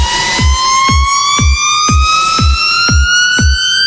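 A synth tone slowly rises in pitch over a wash of hissing noise, while a punchy kick drum thumps at a steady pulse underneath.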